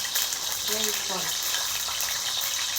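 Eggs sizzle and crackle in hot oil in a pan for an egg and dried fish curry, a steady loud hiss with brief wet spatters and faint talk in the background.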